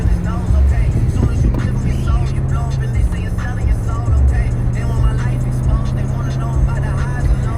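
A car cruises along an aging freeway in the Bloomington metropolitan area in early summer, giving a steady, loud low road rumble and tyre roar from inside the vehicle with no break.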